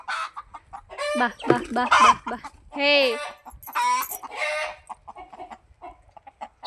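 Panicked farm chickens cluck and squawk in quick, agitated bursts close by, while a person calls out among them.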